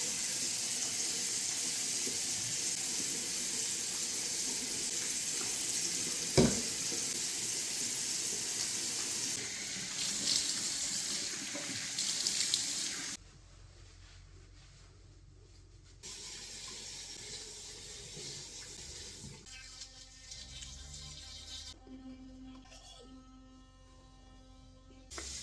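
Tap water running into a bathroom sink while hair edges are washed, a steady broad hiss of flowing water for about thirteen seconds, then cutting to quieter, muffled room sounds with faint intermittent noises.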